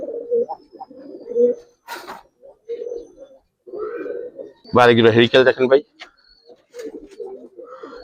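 Pigeons from a collection of matching pattern birds coo repeatedly, with one loud close burst of throaty cooing midway and softer coos scattered around, while someone talks intermittently.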